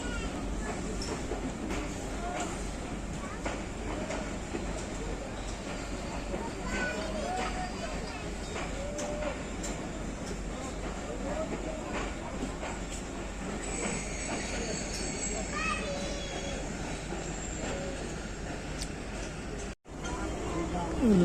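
The Pakistan Express pulls in at platform 4 of Lala Musa station, a continuous rumbling roll of railcars with occasional wheel squeals and clatter. Someone talks over it throughout.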